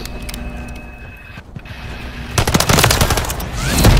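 Renetti pistol fire in the shooter game Modern Warfare III, a quiet stretch followed by a rapid burst of loud, sharp shots in quick succession that continues to the end, with no talking.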